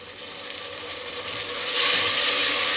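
Biryani masala with garam masala frying in a pan, a steady broadband sizzle and hiss that grows louder partway through, with no voices over it.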